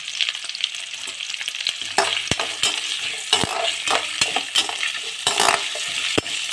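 Garlic and ginger sauté in oil over a low flame, a steady close sizzle with soft stirring scrapes and a few sharper utensil clicks against the pan.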